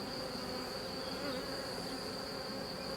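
Honeybees buzz steadily around an opened hive, a dense continuous hum that stays close and constant throughout, with a thin high whine over the drone of many bees.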